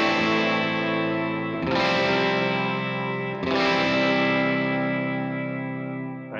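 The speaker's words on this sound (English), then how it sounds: "Next we're gonna add a dotted eighth delay for those rake parts." Distorted electric guitar chords through a Line 6 Helix with dotted eighth tape delay ring out, shimmering repeats trailing each strum, two big strikes sustaining and washing into one another.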